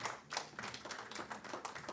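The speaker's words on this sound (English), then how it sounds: "is that Councilmember Merrill down there clapping?" At a town council meeting in Carrboro, one person claps their hands with a quick run of soft, fairly faint claps in a large room.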